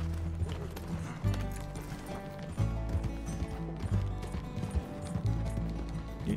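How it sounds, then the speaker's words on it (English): Horse hooves clip-clopping in Red Dead Redemption 2, a steady galloping rhythm heard up close over a continuous low rumble of game sound. "How am I supposed to chase it when my horse is half a mile away?"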